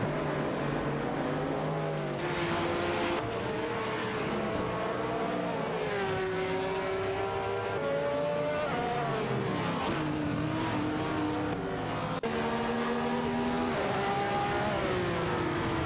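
Race cars, including a Nissan R382 and a McLaren, screaming through a racing video game, engines revving up and down through gear changes with overlapping cars passing, loud and continuous with no voices.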